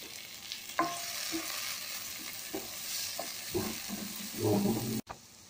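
Steady sizzle of onions and tomatoes sautéing in a pan, with occasional scraping and stirring knocks, close by, a louder clatter near the end, no voices.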